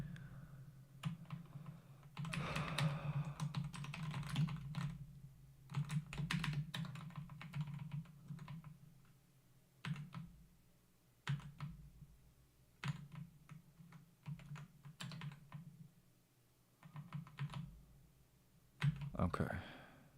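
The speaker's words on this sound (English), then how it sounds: "And we can start typing." Fingers type on a computer keyboard in bursts of quick, close clicking keystrokes separated by short pauses, with some soft background sound between the runs.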